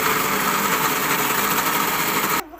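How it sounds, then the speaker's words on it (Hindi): Kitchen blender grinding fresh strawberries for a milkshake, a loud steady whirring motor buzz that runs without a break, then stops suddenly near the end, leaving quiet. "तो अब मैं इसको करूँगी थोड़ा सा ग्राइंड"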